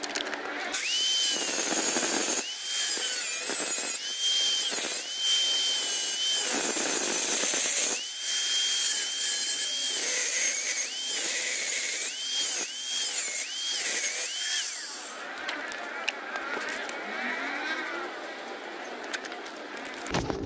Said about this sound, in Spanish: voy a hacer aquí agujerito, cortar, limpio, perforo y se coloca la nueva